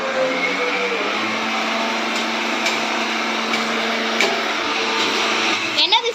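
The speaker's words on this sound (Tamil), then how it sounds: "எங்க சித்தி வந்து இப்போ சீக்ரெட் இன்க்ரீடியன்ட் அரைச்சிட்டு இருக்காங்க" A kitchen mixer grinder blends a secret ingredient for a homemade dum biryani. It gives a steady, close, high whirring drone with a brief clatter at the end, and voices are faint in the background.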